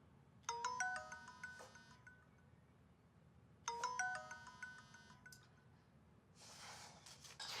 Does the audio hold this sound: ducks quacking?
no